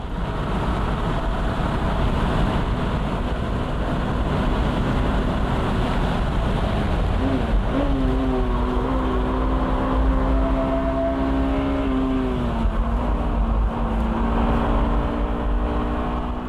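A Honda Type R at full throttle on a lap, its engine a steady loud drone whose pitch climbs and dips as the revs change, all under heavy rushing wind noise.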